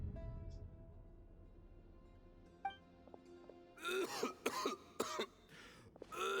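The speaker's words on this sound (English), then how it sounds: "Why is he coughing so much?" A character in a video game coughs several times in a hoarse, rapid cluster, preceded by a faint throat sound, heard alone in a quiet room with no talking.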